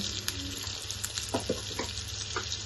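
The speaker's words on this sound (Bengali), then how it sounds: "আমি এটা ভালো মতো নাড়ব এবং মশলাটা আমার ভালো মতো কষাতে হবে" Ground cumin, coriander powder and Kashmiri chilli powder frying and being stirred in a pan, a steady close sizzle with soft scraping strokes, no talking.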